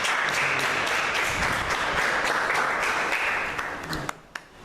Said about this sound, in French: je voudrais, avant d'entrer en matière, de lui donner des applaudissements très.